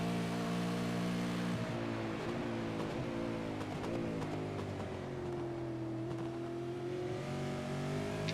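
V8 veteran race cars lap the Sandown circuit, a continuous engine drone that swells and shifts in pitch as cars pass, heard from a distance under a steady wash of noise.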